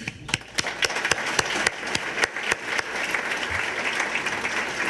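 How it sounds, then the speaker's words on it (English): Audience applause at a chamber of commerce ports event, beginning with a few sharp individual claps and swelling into a steady crowd of hands clapping. "Will you give them a clap?"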